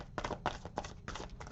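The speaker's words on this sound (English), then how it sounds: "I'm just going to do a quick shuffle." Oracle cards being shuffled quickly by hand, a run of soft papery riffles and taps in short bursts, close and fairly quiet, with no talking.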